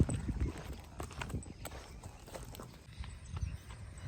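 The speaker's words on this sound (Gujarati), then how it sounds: "દોડાવો ઘોડો?" A horse's hooves clip-clop steadily on the ground during a ride by a riverbed, a fairly close rhythmic patter with faint background noise and no clear talk.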